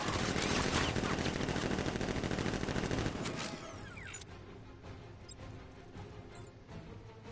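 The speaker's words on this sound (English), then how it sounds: "Guard! Open fire! Shoot everything!" Guards open up with guns in a video game: a dense, loud barrage of overlapping gunfire for about three seconds, then fading into quieter scattered clatter and debris.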